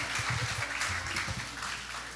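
Studio audience clapping at a televised French-language music show, steady and moderately loud throughout, broad and continuous with no voices over it.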